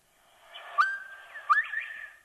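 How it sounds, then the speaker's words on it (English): A bobwhite quail call is played back: two clear rising whistled notes, the second sharper, sounding faint and somewhat distant in otherwise quiet surroundings. "Sounds like the bird is saying Bob White."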